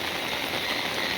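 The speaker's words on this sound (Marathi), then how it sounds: "पाऊस पडतो त्याच्यामुळं व्हिडिओ करणं शक्य होत नाही" Rain falling during a monsoon downpour beside a stream where crabs are being caught, heard as a brief, even, continuous hiss with nothing else standing out.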